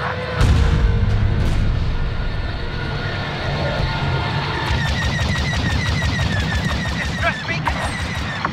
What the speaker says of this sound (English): Rebel Y-Wings are bombing the docks.